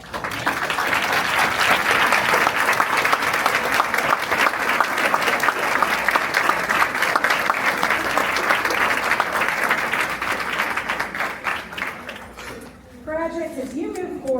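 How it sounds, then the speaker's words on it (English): A large graduation crowd gives a long, loud round of applause, a thick, continuous clatter of many hands that tapers off near the end, where a voice begins speaking. "we'll give you a round of applause."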